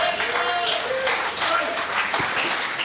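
A church congregation claps and cheers just after a baptism, brief applause mixed with voices and singing-like calls throughout.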